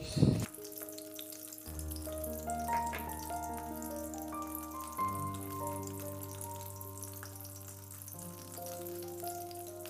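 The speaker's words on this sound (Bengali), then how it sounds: "ওই গরম তেলের মধ্যে হালকা আছে ভাজা হতে থাকবে" Paneer shashlik pieces frying in hot oil over low heat, a steady close sizzle and crackle with faint clinks of utensils, no voices.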